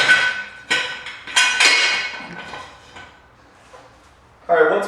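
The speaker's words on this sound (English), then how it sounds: "we're going to grab our jack stands and we're going to place them underneath the axle tube on either side of the axle" Metal jack stands set down under the axle tube of an EZGO TXT golf cart, giving several sharp clanks and knocks at close range with quieter handling noises in between.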